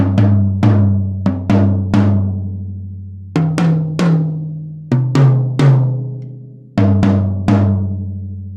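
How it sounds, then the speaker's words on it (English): A low tom of an acoustic drum kit, unmuffled, is struck repeatedly in loose groups, deep booming hits ringing out with long resonant tails, close and alone. "and the low tom."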